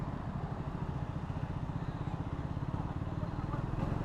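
A Triumph Scrambler 400X motorcycle riding through moderate city traffic, its engine giving a steady low pulsing rumble, fairly faint and continuous with road noise around it.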